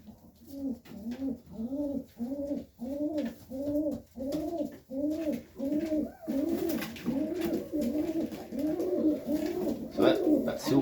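Serbian Highflyer pigeons coo in a loft during a Sunday cleanup, a steady run of about a dozen evenly spaced, rolling coos, close and clear with little else around.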